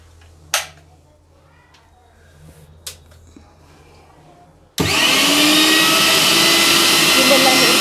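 A Prestige Endura Pro 1000W mixer grinder starts abruptly partway through after a quiet stretch with a couple of sharp clicks, then runs as a loud, steady, broadband whirring roar close by to the end.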